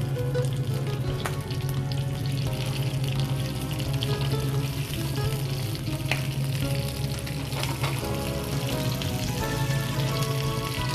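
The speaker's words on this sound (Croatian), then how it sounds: "Na dobro zagrijanu grill tavu stavljamo ražnjiće peć." Skewers sizzle on a well-heated grill pan, a loud, continuous crackling hiss with a steady hum underneath and occasional sharper pops, with no talking.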